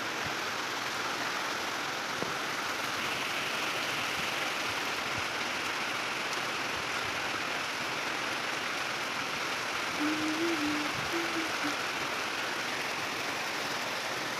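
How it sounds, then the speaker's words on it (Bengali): Heavy rain pouring down outdoors, a constant, even hiss that holds steady from start to finish. "এই দেখো প্রচণ্ড পরিমাণে বৃষ্টি হচ্ছে"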